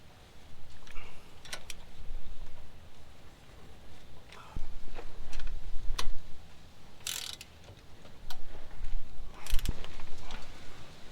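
Falcon steering stabilizer bolts on a Jeep Gladiator Rubicon being snugged with a ratchet: bursts of close, rapid clicking separated by short pauses.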